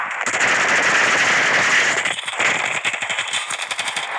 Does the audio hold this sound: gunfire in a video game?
yes